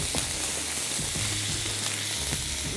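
Tomato paste frying in a pan for a Bengali chitol fish muitha dish, a steady broadband sizzle throughout with a few faint stirring scrapes, close and continuous with no talking.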